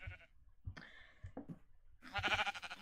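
A sheep bleats in Minecraft, a short faint call early on and then a louder wavering bleat near the end, with soft thuds and quiet gaps between.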